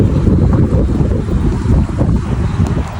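Strong wind roaring on a rooftop in Dakar, Senegal, buffeting the microphone in a loud, continuous, gusty rumble with no voices.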